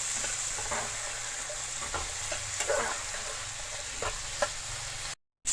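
Tomato, onion, garlic, curry leaves and ginger fry in a pan for a jackfruit-seed curry, giving a steady close sizzle with soft stirring scrapes throughout before a brief cut to silence.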